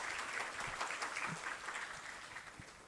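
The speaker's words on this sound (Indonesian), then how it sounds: "Boleh dong kita tepuk tangan teman-teman?" An audience at a campus talk show claps together for a guest, a faint, steady wash of applause with no voices on top, heard from a distance.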